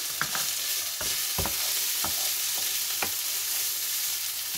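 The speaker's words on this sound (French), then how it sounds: "Je vais remuer à feu doux." Vegetables stirred in a pan over low heat, a soft continuous sizzle broken by several distinct scraping stir strokes spaced about a second apart, close by and without talk.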